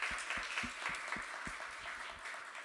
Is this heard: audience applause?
yes